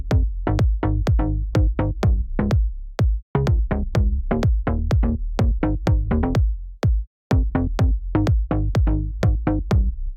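The low end of a techno/house track, with a punchy kick and deep sub bass pounding in a steady four-on-the-floor pattern, loud and upfront, with two short drops in the groove.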